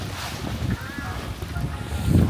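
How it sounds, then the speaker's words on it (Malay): Strong wind gusts during heavy snowfall on a cold ski slope at Gala Yuzawa, a continuous low rushing roar close to the microphone with buffeting that swells louder near the end. "Angin kuat sangat."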